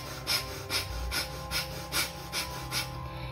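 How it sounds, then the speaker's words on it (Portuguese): Rapid, vigorous breathing through the left nostril during an alternate-nostril breathing exercise, with eight rhythmic close sniffing pulses about every half second and no talk. "respira vigorosamente e rápido somente pela narina esquerda"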